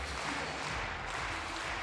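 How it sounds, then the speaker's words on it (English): A handball arena crowd at the European Championship bronze match between Spain and Croatia gives a steady round of applause, a dense, even patter of clapping that fills the whole moment without a break. "Applause from the crowd."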